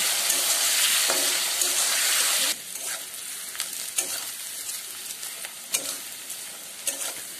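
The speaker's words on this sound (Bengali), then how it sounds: "গাজরগুলো সোনালি করে ভেজে নেব" Carrots fry in ghee and oil in a pan with a loud, bright sizzle that suddenly drops to a quieter crackle, punctuated by spatula stirs and pops.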